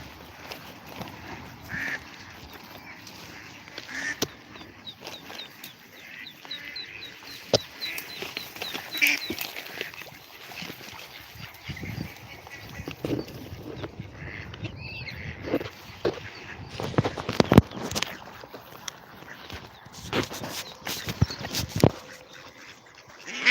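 Ducks quack repeatedly at a duck pond, calls coming in uneven bursts near and farther off, with clatter and brief outdoor noises between them.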